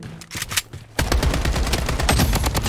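Rapid bursts of gunfire in Blood Strike crack out, a few scattered shots first, then a dense, loud stretch of continuous automatic fire.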